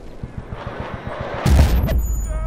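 An extra explosive mortar round in the video game Bad Company 2 lands with a heavy, booming blast midway through, preceded by a rapid string of distant gunshots and followed by a lingering low rumble.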